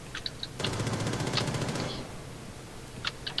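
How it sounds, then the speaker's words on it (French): Rapid automatic gunfire in the Rainbow Six Siege video game, a burst of quick repeated shots lasting about a second and a half, heard quietly and at a distance, with faint clicks before and after. "j'entends des tirs"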